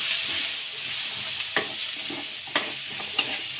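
Potatoes and spices including chili powder and garam masala fry in oil in a pan over a medium gas flame. A steady sizzle runs throughout, with a few sharp scrapes of stirring, close up and no voices.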